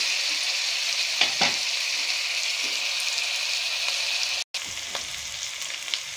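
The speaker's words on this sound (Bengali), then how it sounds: "একটু ভেজে নেবো রসুনটা।" Garlic paste frying in a pan for a Bengali chili chicken dish, a steady close sizzle with a few scraping stirs, briefly cut off by a moment of silence before the hiss resumes.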